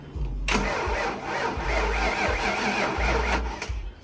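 A Foxbody Mustang engine cranks briefly, then catches and starts, settling into a loud, steady near running rumble that fills the whole clip.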